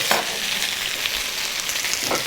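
Steady crackling sizzle of food frying in a hot pan, close and continuous with occasional louder pops.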